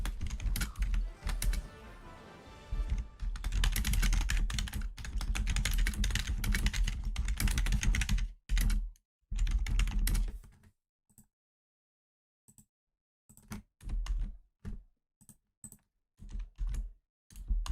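Computer keyboard typing, fast and continuous up close for about eight seconds, then breaking into scattered bursts of keystrokes separated by silent gaps.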